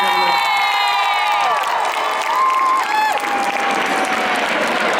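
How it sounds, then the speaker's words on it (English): An outdoor crowd at a D-Day drumhead service in Southsea claps and cheers while a voice carries over a loudspeaker, the applause a steady wash beneath the amplified talk, with scattered distant whoops. "Let's have a big patriotic clap and cheer"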